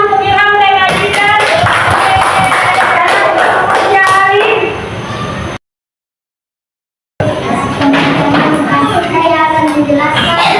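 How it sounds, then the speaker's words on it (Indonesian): Applause for two students, Ilham and Adita, during a classroom performance session, with steady clapping mixed with children's voices, then a brief dropout before the clapping and chatter resume. "tepuk tangan untuk Ilham dan Adita"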